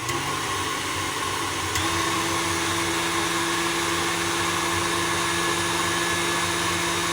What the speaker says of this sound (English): Get your mixer on, mix it on high for 1 minute.